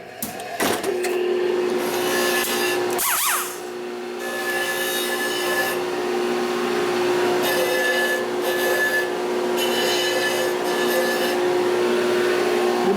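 Angle grinder fitted with a fresh disc grinds a part on a 1972 Harley-Davidson XL Ironhead Sportster bobber, a loud, steady whine holding nearly unbroken for the whole stretch after a brief start, with one short interruption.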